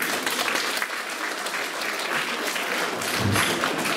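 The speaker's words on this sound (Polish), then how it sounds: "brawa były wielkie dla wykonawców" Audience applause for performers at a children's song festival, a dense steady clatter of many hands clapping, loud and continuous for the whole stretch with no break.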